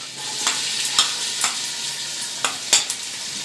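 Ginger, garlic and onion fry in hot oil for a chicken fried rice, giving a steady close sizzle with a few sharp scrapes of a stirring spoon and no voices.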